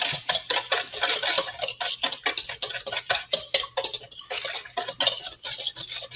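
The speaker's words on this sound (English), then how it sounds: "You give that a very light mix in so it all mixes in well." Salt being stirred into a bread dough mixture in a bowl, heard as a quick, steady run of close scraping and tapping strokes repeating throughout with no voices.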